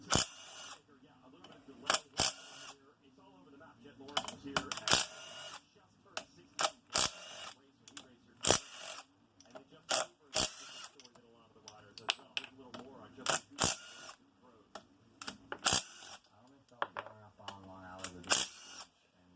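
Bolts come out of a 1997 Kawasaki KX250 engine case in a string of sharp metallic clicks and ratchet snaps at irregular intervals, close and distinct, with someone talking quietly between them.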